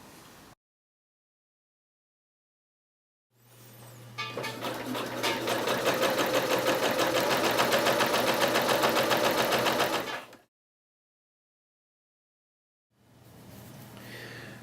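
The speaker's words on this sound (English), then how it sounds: "So what we're going to do now is pin this and then sew it." A sewing machine sews a trouser leg seam in one long, steady, close run of rapid needle stitching lasting several seconds, with quiet gaps before and after and another short burst starting at the end.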